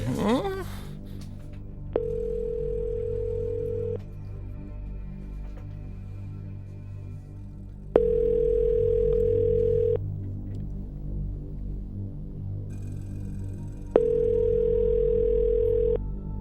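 A telephone line being dialed for a radio call gives a steady low hum, broken by three evenly spaced two-second ringing tones. Each ring stands out clearly against the background.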